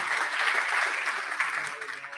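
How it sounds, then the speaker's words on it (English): A conference audience applauds a speaker named Mahmoud at a tech solidarity gathering in Barcelona, a steady wash of clapping at moderate distance that slowly fades over two seconds. "Applause for Mahmoud."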